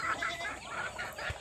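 Fighting gamecocks loose on a farm give short clucking calls in quick succession, moderately close with a steady outdoor hiss behind them and a brief low thump near the end.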